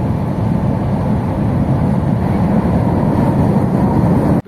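A loud, steady rumbling roar of an LRT train passing overhead on an elevated track in Manila, heard from below, continuous low-frequency noise that cuts off abruptly at the end.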